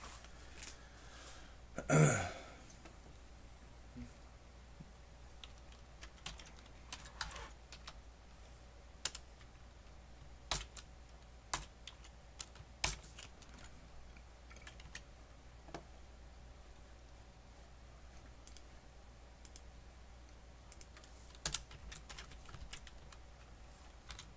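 Scattered keystrokes tap on a computer keyboard in short irregular bursts, quiet and close, with a throat-clear near the start.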